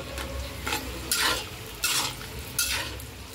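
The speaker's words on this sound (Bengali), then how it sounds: "আর এই যে ক্যাপসিকাম ভাজা বসিয়ে দিয়েছি, বড় কড়াইতে করে নিচ্ছি" Capsicum fries in a large wok while a spatula scrapes through it in about four distinct, rhythmic strokes over a low background sizzle.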